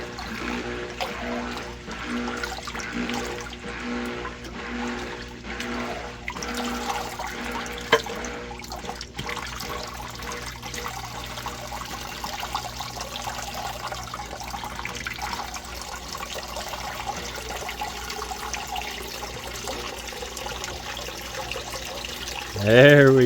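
Water from a newly plugged-in aquarium pump flows and trickles steadily outdoors, a soft continuous wash with faint gurgles, while people talk quietly over it.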